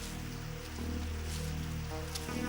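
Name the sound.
rain falling during a storm, cartoon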